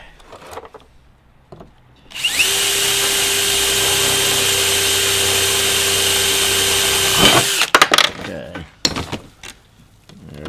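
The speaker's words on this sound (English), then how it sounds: "put the rivet in here to hold it while I drill the next hole" A power drill whines steadily for about five seconds, loud and close, drilling a rivet hole while installing a snorkel on a Jeep Wrangler JL, then stops, followed by clattering handling sounds.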